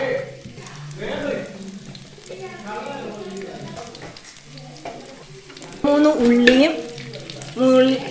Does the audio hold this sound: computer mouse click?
no